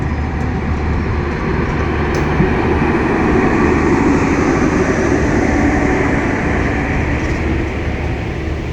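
A train pulls slowly through Gazipur station in the evening: a steady, loud rumble of wheels and carriages that continues without a break, with faint higher squeals now and then.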